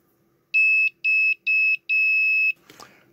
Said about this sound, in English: The other one is an active buzzer, which means you just give it a DC voltage and it will make noise